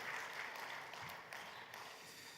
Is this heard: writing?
no